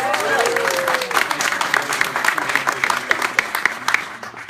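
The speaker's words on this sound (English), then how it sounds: "Please give them a round of applause." A crowd at a congressional campaign event for a candidate breaks into sustained applause, a dense and loud clatter of clapping with some cheering and voices mixed underneath.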